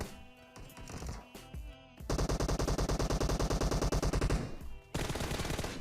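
PUBG Mobile gunfire: a few scattered shots, then a long rapid automatic burst with evenly spaced loud reports, a brief pause, and another burst starting.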